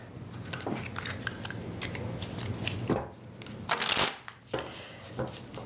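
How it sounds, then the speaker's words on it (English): Tarot cards being shuffled by hand, a steady papery riffling and sliding that builds into louder bursts near the end, with no talking. "Let's get our tarot cards."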